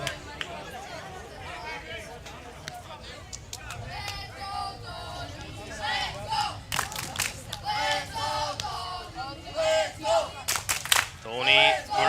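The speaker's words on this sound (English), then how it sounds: "Tony Barreto getting cheers from the home crowd" Home crowd cheering at a European Federation Cup baseball game between Apollo Bratislava and Dornbirn Indians, a broad swell of shouts and cheers that builds and peaks after a foul ball, mixed with crowd chatter.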